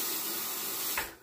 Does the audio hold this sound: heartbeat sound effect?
no